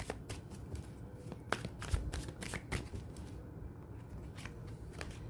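Tarot cards are shuffled close by in a steady run of crisp riffling and soft slaps, with no talking.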